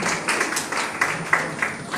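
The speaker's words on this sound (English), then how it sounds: "applause" Students in a soft skills training session clap for themselves, a moderate wash of applause with rhythmic pulses of claps running throughout, no talk over it.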